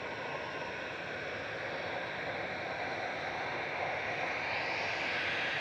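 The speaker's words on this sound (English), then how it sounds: "EasyJet 7270 to Palma de Mallorca, OEIJV departing now" EasyJet airliner bound for Palma de Mallorca departing Manchester Airport, a constant broadband jet roar with hissing wash, fairly distant and steady, slowly building toward the end.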